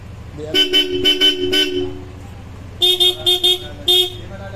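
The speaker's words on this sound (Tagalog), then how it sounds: "Kinapit namin dito, Bosch Europa, busina pogi." A Bosch Europa horn fitted on a Yamaha NMAX V1 scooter gives a rapid series of short honks, about four at first, then a brighter, higher second burst of four, loud and close over a low idle hum.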